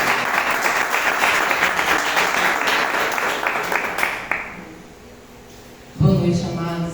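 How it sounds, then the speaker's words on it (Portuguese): A church congregation claps strongly to welcome a sister to the front at an evening service, sustained crowd applause that fades out after about four seconds, followed by a brief quiet and then a voice speaking. "Vamos receber a nossa irmã Eva com forte salve de palmas para Jesus."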